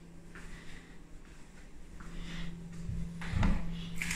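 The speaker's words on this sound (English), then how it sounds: "Sliding doors." Sliding doors in a Sheffield apartment bedroom rumble and slide along their track, a low continuous scraping that builds to a louder thump near the end, heard close with no speech.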